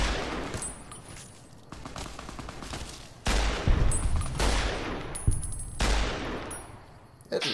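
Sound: survivalist rifle shots in video game Fallout New Vegas

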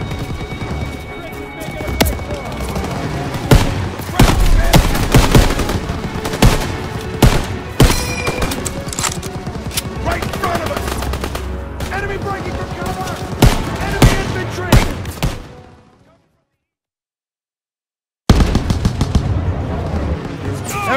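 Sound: machine gun fire in video game Call of Duty WWII

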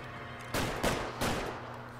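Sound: gunshots in the video game L.A. Noire

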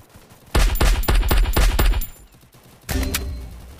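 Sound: gunfire in a video game

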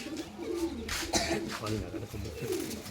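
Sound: pigeon cooing

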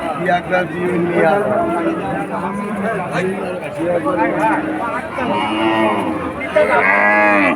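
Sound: cattle at a cattle market

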